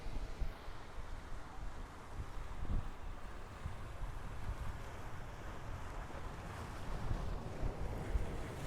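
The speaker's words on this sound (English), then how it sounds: "Here's another wave right behind me." Ocean surf at a surfing spot, with waves rolling in as a steady broadband wash over about nine seconds, mixed with heavy wind noise buffeting the microphone; no one speaks.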